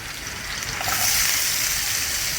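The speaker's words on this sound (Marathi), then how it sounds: "अशी दाबून काढते मी पाणी बघा तुम्ही" Water squeezed by hand out of grated potato splashes and trickles in a steady hiss, growing slightly louder partway through, with no voices.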